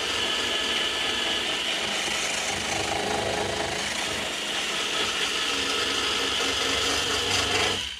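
Continuous abrasive grinding as a green sanding disc works over plastic-welded plastic, a harsh buzzing rasp that holds steady before cutting off at the end.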